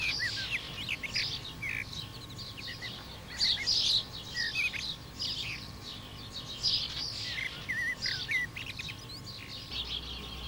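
A young blackbird calls repeatedly in a garden, bright high chirps and squeaky notes coming in irregular bursts over a steady low background hum.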